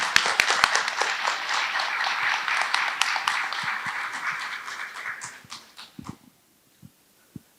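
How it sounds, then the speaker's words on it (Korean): Audience clapping welcomes a keynote speaker at a Korean academic information conference in Busan: dense, steady applause fills the first five seconds, then thins and fades to a few scattered claps. "그럼 큰 박수로 김재수 원장님을 모시겠습니다"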